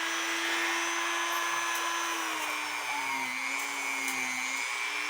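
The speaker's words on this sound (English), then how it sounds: "my buffing pad is getting damaged from hitting all the parts" A Dremel-driven buffing pad polishing the brass parts of a New England cathedral clock, a steady high whine with a slowly wavering pitch and faint contact rubs, close and continuous without speech.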